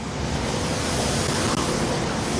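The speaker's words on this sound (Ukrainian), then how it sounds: "Розприскувачі води другий рік поспіль влітку працівники Чернівці водоканалу встановлюють на центральній та соборній площах." Street water sprinklers spray across the central square of Chernivtsi in summer, giving a steady, fairly loud hissing wash of spray that carries on evenly throughout, with no voices.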